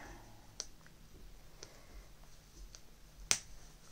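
A cloth pad's snap fastener clicks shut, a few sharp isolated snaps with the final one loudest, close up against a quiet room.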